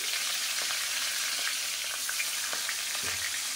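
Catla fish pieces fry in hot oil with a steady, dense sizzle and crackle, close and continuous, with no voices.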